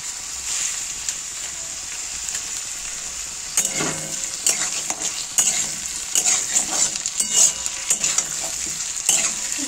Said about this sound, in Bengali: এইখানে একটু পাকা করে একটু জিরাটা ফোড়ন দিয়ে দিই।